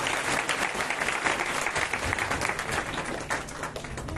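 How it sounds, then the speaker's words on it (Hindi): Applause from a crowd at a Shrimad Bhagwat Katha religious gathering: dense, sustained clapping rolling steadily throughout, loud and filling the space. "इन सभी लोगों के लिए जोरदार ताली बजाइए"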